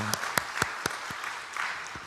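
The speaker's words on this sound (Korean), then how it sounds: "우리 하나님께 영광의 박수 한 번 더 올려드리겠습니다" Scattered, fairly faint clapping from a church teachers' lecture audience, a few distinct sharp claps spaced out over a soft background, with a brief voice at the start.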